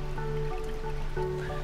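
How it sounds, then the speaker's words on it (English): Water refills a tank through an automatic float valve, a soft continuous trickle and splashing with faint dripping, steady and close with no voices. "when the water level drops, the valve will continue to refill the water tank"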